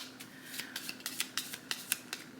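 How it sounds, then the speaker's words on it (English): Prompt cards being shuffled by hand, a run of about a dozen crisp papery flicks in a loose, uneven rhythm, close and fairly quiet with no talking. "Why am I shuffling so weird?"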